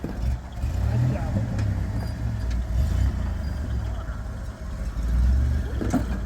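An antique Jeep crawling downhill in first gear in Pritchett Canyon, a low steady engine rumble with slight rises and dips, while people talk nearby over it.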